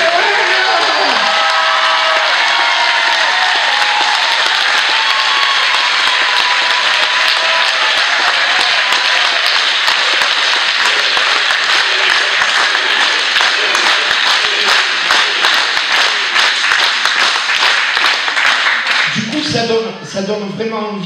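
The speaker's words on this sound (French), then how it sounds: "applaudissez tous." Audience applause at the closing night of an international improvisational theatre festival in Pont-de-Vaux, sustained dense clapping from a crowd that fades near the end as a voice begins speaking.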